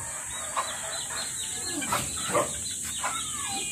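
Soft, high peeps from chicks over a constant high hiss, several brief calls spaced irregularly, fairly close.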